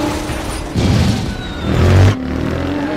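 Race cars surge off the line at the start of the Ready Player One race. A loud, layered rumble of engines swells twice, peaking in a deep boom before settling into a steady roar.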